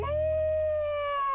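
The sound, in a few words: wolf howl in an animated cartoon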